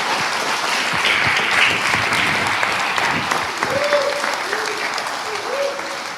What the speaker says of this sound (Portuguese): aplaudindo ao Senhor Jesus.